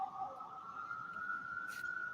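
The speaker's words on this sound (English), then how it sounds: "Somebody got sirens going by." Emergency vehicle siren passing nearby, a steady wailing tone held throughout, moderately loud over faint background noise.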